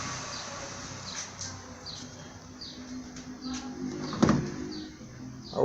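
Door of an old Ford Escort shutting once, a short thump and rattle about two thirds of the way through, over a low steady outdoor background with faint chirps.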